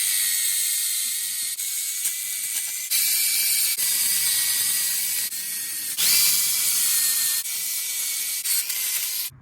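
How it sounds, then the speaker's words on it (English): A bristle disc on a power tool scrubs the cylinder head gasket surface of a 1993 Ford Mustang LX 2.3, giving a loud, harsh whirring scrape in several long passes with brief breaks between them. "You're gonna take one of these bristle discs, use this and try to clean up this gasket surface."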